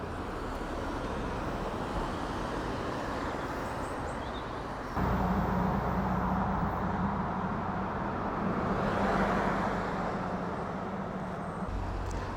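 Road traffic rumbling past a busy corner near the entrance to Osborne House on the Isle of Wight, a steady wash of engine and tyre noise that swells when a louder vehicle passes midway.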